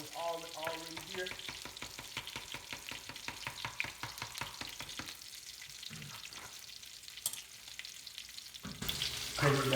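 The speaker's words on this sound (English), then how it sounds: "This is mixing up that gravy and butter that was already here." Gravy and butter being stirred in a pan with whole lobsters, a close, crackling sizzle with repeated scraping and sloshing strokes of the spoon, fading partway through before the frying rises again.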